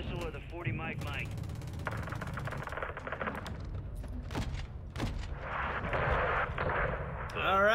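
In Modern Warfare 2, heavy 40mm grenade or missile blasts hit a gate, a few deep booms and sharp reports landing amid radio chatter and voices, moderately loud with rumbling tails.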